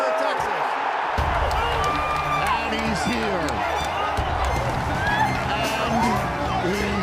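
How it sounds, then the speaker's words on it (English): A stadium crowd at the NFL draft roars and cheers for a Packers wide receiver pick, a loud, sustained wall of noise with scattered shouts, and someone talks over it. "Listen to this crowd."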